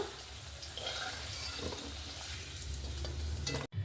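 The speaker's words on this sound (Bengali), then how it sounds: "আলুটাকে একটু ভেজে তুলে নেব আলুটাও হালকা করে ভেজে নিয়েছি" Potato strips frying in hot oil, giving a dense, continuous sizzle that stays steady and close before cutting off abruptly near the end, with no voices.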